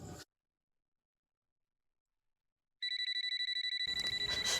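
An electronic telephone ringtone trills loud and close after a stretch of silence, a bright repeating warble that lasts to the end, with a brief thump at the start.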